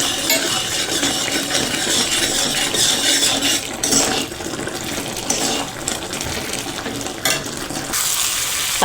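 Tomato curry with a spoonful of salt is stirred in a hot pan, loud continuous sizzling and frying with scraping stir noises and a few brief dips, no talk.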